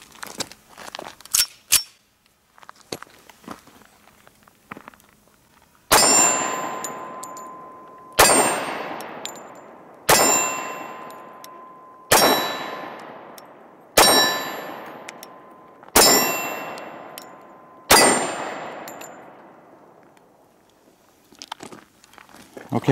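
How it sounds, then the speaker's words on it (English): Rounds from a Sig Sauer compact nickel 1911 in .45 striking a small steel target: seven loud gunshots at a steady pace, each followed by a ringing metallic clang, with a few quieter clicks and handling noises before and after. "I chose to shoot at the small steel target down here."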